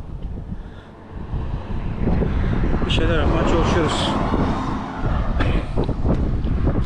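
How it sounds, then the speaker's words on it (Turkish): Strong wind buffeting an outdoor microphone during a bicycle tour in Şarköy, a loud, steady low roar with gusts that rise and fall, while someone speaks over it. "Aşırı rüzgar var bugün."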